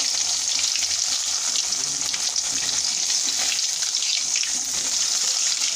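Pieces of paarai fish deep-frying in groundnut oil, a steady dense sizzle and crackle of hot oil that holds constant and fairly loud throughout, with no voices.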